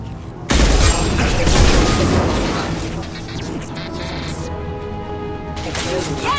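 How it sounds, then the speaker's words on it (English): Explosions and bursts of gunfire rumble through a Mass Effect 2 firefight, a loud broadband blast opening the sequence and sustained combat noise continuing beneath game voices and music-like tones. "Explosion proximity warning."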